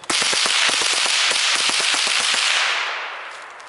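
A Marlin 60 rifle fires a quick string of about fifteen sharp cracks in rapid succession, loud and close, then the echo fades away.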